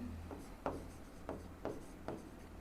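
Pen writing on paper while working out a maths equation, faint soft scratching strokes with several distinct taps and scrapes, close and quiet, with no talking.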